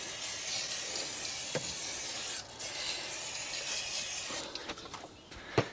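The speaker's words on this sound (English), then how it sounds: "put a bit of brake cleaner in there." Brake cleaner sprayed from an aerosol can in a workshop: a long, steady broadband hiss runs for a couple of seconds, breaks briefly, then resumes as a second sustained burst, with a few faint knocks at the end.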